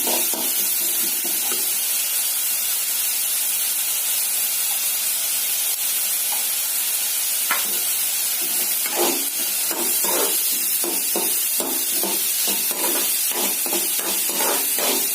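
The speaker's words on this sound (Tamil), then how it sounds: "அதனால நான் இப்போ நடுவில் போட்டு தனியா வதக்கிக்கிறேன்." Onion and green chillies sauté in a pan for an aloo paratha filling, giving a constant hissing sizzle; from midway a quick run of spatula scrapes and taps joins in, near and without speech.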